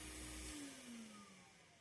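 A steel canister industrial vacuum cleaner running, with a steady loud motor roar whose pitch slowly falls as it winds down, heard alone with no talk.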